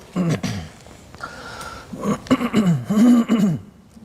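A short throat-clearing cough up close, followed by a stretch of speaking voice.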